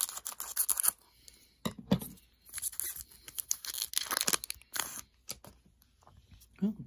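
A Pokémon Darkness Ablaze booster pack from the Sword and Shield series is torn open by hand, with sharp ripping bursts and crinkling foil coming in uneven spurts between quieter pauses, close and crisp.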